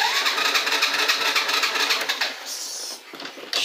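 A motorcycle engine, stalled and being restarted by kick-start, catches and runs with a loud, busy mid-pitched rattle, then falters and dips near the end before picking up again.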